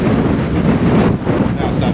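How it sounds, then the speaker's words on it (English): Steady, heavy wind roars and buffets across the microphone on the deck of the cruise ship Carnival Valor throughout, a dense continuous rush with faint rhythmic thumps underneath. "You can hear the resistance of the wind."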